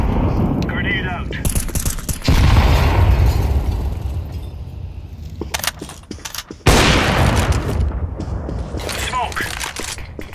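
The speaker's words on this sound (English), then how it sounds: "Throwing a grenade." A grenade explodes in Counter Strike 2 competitive play, with heavy booming blasts amid dense gunfire and mechanical game sounds, loud and close.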